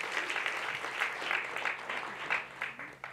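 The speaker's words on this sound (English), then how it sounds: "Let's give a round of applause for all three judges." An audience at a storytelling slam applauds the judges, a moderately loud, steady round of clapping with some individual claps standing out, heard alone without talk.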